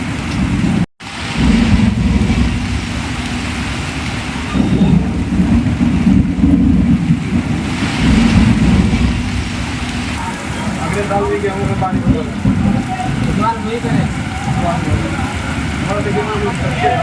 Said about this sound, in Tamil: வெளியில மழை சும்மா பிரின்னு பிரிக்குதுங்க